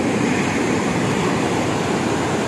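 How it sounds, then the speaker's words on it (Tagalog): Big sea waves pound a beach during a typhoon, a loud continuous roar of surf and wash filling the whole span with no voices. "Malaki na naman ang dagat dahil sa bagyong Dante."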